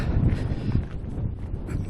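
Gusty wind blowing steadily outdoors beside a garden mower shed, a continuous low rumbling roar with buffeting against the microphone for the whole stretch, no talking.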